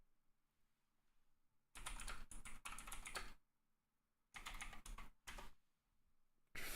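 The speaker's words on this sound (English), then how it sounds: "let me just type in this" Fingers type on a computer keyboard in close, crisp bursts of rapid key clicks separated by short pauses, with no talking.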